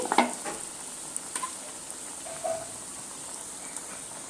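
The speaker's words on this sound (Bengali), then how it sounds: "পকোড়াগুলো উল্টে পাল্টে সুন্দর করে একদম মুচমুচে করে লাল লাল করে ভেজে নিয়েছি" Drumstick leaf pakoras frying in oil, giving a faint, steady sizzle with a few soft clicks and pops near the start.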